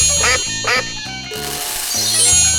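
A cartoonish duck quacks in a 3D animal sliding game, two loud nasal quacks over a looping, bouncy game melody, followed by a bright chiming sparkle.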